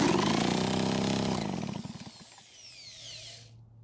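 A cordless drill cranks a Redmax EBZ8500 backpack blower engine that will not start, making a loud, close whirring grind that winds down over about two seconds, then fades into a thin high whine and stops.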